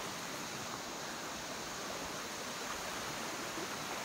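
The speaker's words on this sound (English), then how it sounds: "look at this gorgeous stream right here" Steady, full rushing water from a stream in Costa Rica, heard close and continuous with no voices.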